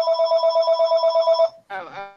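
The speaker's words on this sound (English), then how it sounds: "Sorry, that's my phone." A mobile phone rings with a repeated electronic trill pattern, loud and close for about a second and a half, then cuts off, and a voice speaks briefly afterward.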